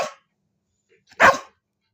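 A puppy gives two short, close barks: one at the very start and a louder one about a second later, with silence between.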